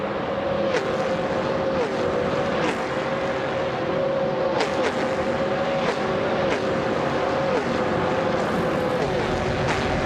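Race cars in a racing video game drone steadily throughout, their engine whine rising and dropping with repeated gear shifts as several cars pass, loud and continuous.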